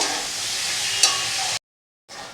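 Masala with chili powder, tomato and green peas sizzles and hisses in a hot pan while being stirred, a steady close frying sound with a brief clink, a short silent gap, then more sizzling.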